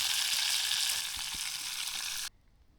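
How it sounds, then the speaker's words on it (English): Trout frying in a pan on a camp stove, a steady close sizzle of hot oil with a couple of soft knocks, cutting off abruptly near the end to near silence. "The trout is on the camp stove"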